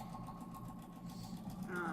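A sewing machine stitches fabric in a steady, quick mechanical whir with a faint hum, heard under a person talking.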